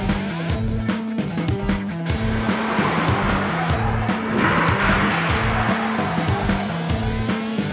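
A Rimac electric hypercar with four motors, each wheel driven through its own inverter and reduction gearbox, drives at speed with a loud, steady whine, alongside tire squeal and the rush of the car pushing hard.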